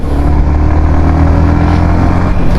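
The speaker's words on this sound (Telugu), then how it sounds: "this is retro sport bike, not complete retro sport bike" A Yamaha XSR 155 retro sport motorcycle is being ridden, its engine giving a loud, steady, close drone with constant wind rush and no break.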